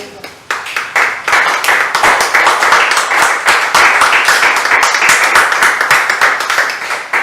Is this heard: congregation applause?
yes